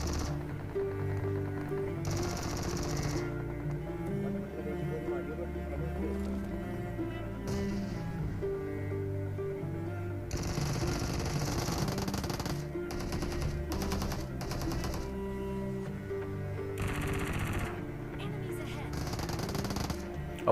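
QBZ rifle gunfire in PUBG Mobile gameplay: bursts of rapid automatic shots and scattered single shots under background music, with someone talking over the action.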